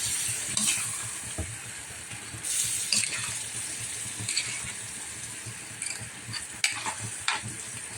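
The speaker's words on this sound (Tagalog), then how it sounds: "haluin natin" Food is stirred in a cooking pot with a steady, sizzling scrape and repeated clinks of the utensil against the metal, close and fairly loud throughout.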